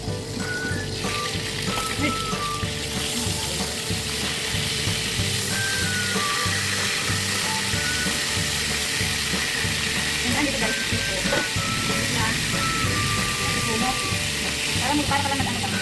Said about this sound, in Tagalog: Inihaw na pinirito sa kawali.